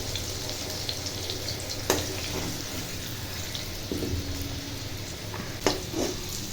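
Onion frying together with potatoes in a pan makes a continuous moderate sizzle, with a few sharp clinks and stirring knocks over it.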